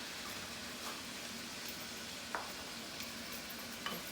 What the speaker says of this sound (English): Now we're going to add my onions.